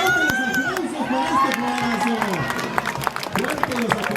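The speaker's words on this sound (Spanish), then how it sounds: "Fuertes los aplausos." Outdoor crowd at a village race where runners carry firewood bundles and pots, with scattered clapping and cheering under a loud announcer's voice throughout.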